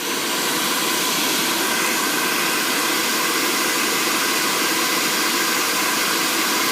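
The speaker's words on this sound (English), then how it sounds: "it's the only hairdryer, and it's like whiz-bang, dries your hair really, really quick" A hairdryer blows hot air onto a Jamberry nail wrap to soften it, giving a steady, loud, unbroken whoosh of fan and airflow that holds evenly from start to end with no talking.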